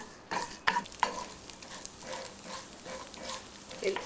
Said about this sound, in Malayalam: തൈര് സാധനത്തിന് കടു വറുക്കുന്നത് ആദ്യം കടലപ്പരിപ്പ് പിന്നെ ഉഴുന്ന് പിന്നെ കടുക്